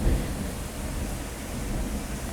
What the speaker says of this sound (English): It's raining really hard in my place, so I'm sorry if the sound is very bad.